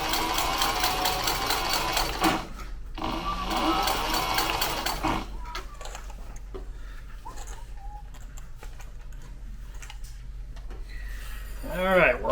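A sewing machine runs steadily for about five seconds, stitching a seam on a Lewis and Clark style backpack, with a fast even whir that stops abruptly and gives way to quiet room noise.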